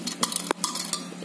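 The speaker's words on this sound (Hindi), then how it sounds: "ये हमने चम्मच से दबा दबा के देखें आपस में मैश कर दिया" A spoon presses and mashes pressure-cooked pumpkin leaves in a pot, giving close, uneven scraping and soft metallic clinks in quick succession.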